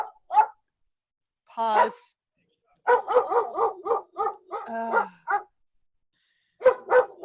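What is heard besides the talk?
dog barking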